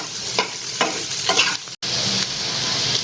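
Pasta with salt being stirred in a pan over a high flame, a steady sizzling hiss with several soft scraping strokes of the spoon and a brief break near the middle.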